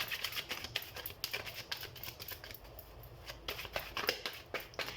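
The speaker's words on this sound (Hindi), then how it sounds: "सबसे पहले हम कार्ड शफल कर लेते हैं टॉरस।" Tarot cards are shuffled by hand in quick, crisp riffles and soft flicking bursts, close and fairly quiet, repeating irregularly.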